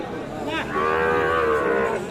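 A young bull calf of about eight months moos at a cattle market, one long drawn-out call that rises and holds steady against a constant murmur of market noise close by.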